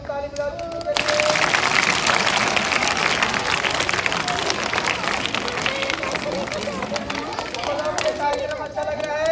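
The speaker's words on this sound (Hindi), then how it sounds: "ताली बजा दो" Sustained applause from a school audience at a magic show fills the room after a quiet opening, with dense clapping and crowd babble that fade slightly near the end.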